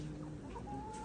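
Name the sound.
chickens clucking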